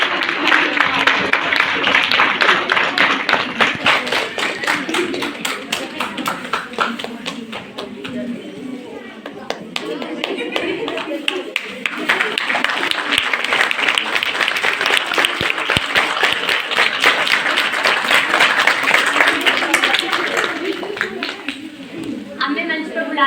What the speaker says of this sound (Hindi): ताली तो बजाओ, ताली तो बजाओ।